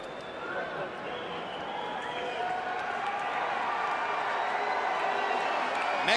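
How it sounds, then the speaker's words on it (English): Mexican fans in a boxing arena crowd booing Manny Pacquiao as he stands on the ropes celebrating after his fight with Marco Antonio Barrera, a dense sustained roar of voices building steadily in loudness. "Mexican fans booing Pacquiao as he stands up on the ropes to celebrate"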